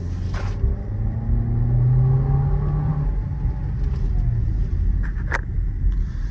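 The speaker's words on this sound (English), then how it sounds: "We'll take it over here and we'll give it some gas over here just to see what it does." A 2025 VW Tiguan SE engine accelerates from inside the cabin, a smooth, moderate low rumble rising briefly in pitch, with a few light clicks and rattles near the end.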